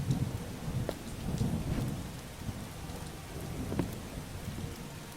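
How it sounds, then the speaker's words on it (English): Steady rain with low rumbles of thunder in the video game Starbound, a continuous soft wash with occasional rolling booms, moderately quiet and with no talking. "I hear rain."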